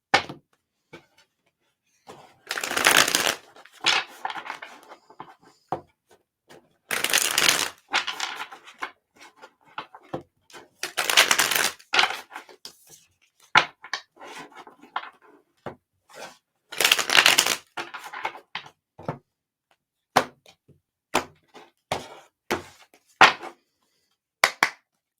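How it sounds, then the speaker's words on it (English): Tarot cards are shuffled in repeated bursts of riffling and crisp flicks, close and clear, separated by short quiet pauses, with sharp taps and snaps near the end. "Let's do a quick shuffle."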